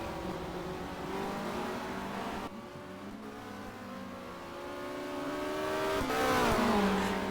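Touring cars in a 1990 WTCC race on the Nordschleife drift through corners, engines roaring and rising in pitch continuously, with a louder surge near the end and occasional tyre scrub.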